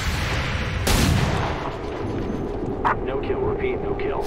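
Gunfire in the turn-based video game XCOM 2, a loud burst of shots and a blast near the start, then trailing rumble and smaller sharp bursts beneath someone talking.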